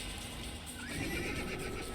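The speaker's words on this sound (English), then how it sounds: "Good horse, still just chilling here." A horse neighs and whinnies in the Assassin's Creed video game, heard clearly and fairly close against a steady background of game ambience, with light clip-clop hooves.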